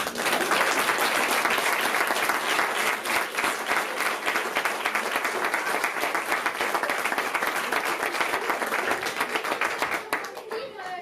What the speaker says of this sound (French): Et on vous applaudit à nouveau.